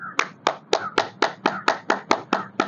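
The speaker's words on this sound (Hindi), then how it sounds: "इसे ताली को बजा करके 10 बार 20 बार गर्म हाथ करें।" A single person claps both hands together to warm the palms during a breathing exercise, about a dozen crisp, evenly spaced claps in a steady rhythm, close and alone.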